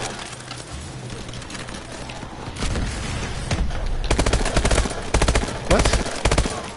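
Burst-fire weapon shots in Call of Duty: Advanced Warfare, quick clustered bursts of gunfire that grow louder and denser toward the end, set against steady game ambience.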